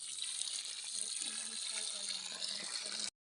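Water runs steadily from a tap in a garden, a continuous loud hissing gush lasting a few seconds before it stops abruptly, with faint talk underneath.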